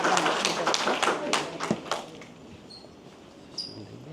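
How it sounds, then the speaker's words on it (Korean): A small group claps to welcome a speaker at a political lecture event in Jeju, a brief burst of hand claps that fades out within two seconds, followed by quiet room ambience. "힘찬 박수로 모시면서 강연을 시작해 보겠습니다"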